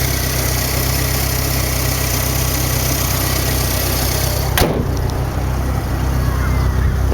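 A 1985 Chrysler LeBaron Turbo Coupe with 77K original miles, fresh TPS sensor and K&N air filter, idles steadily and close up, a smooth continuous engine drone with a brief click partway through.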